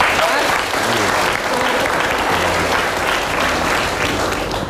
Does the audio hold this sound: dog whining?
no